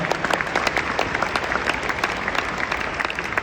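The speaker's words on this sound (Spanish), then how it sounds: "a ustedes, los graduandos, también un aplauso para ustedes en este día tan especial" An audience at a university graduation ceremony applauds the graduates, a sustained dense patter of many hands clapping, fairly close and steady throughout.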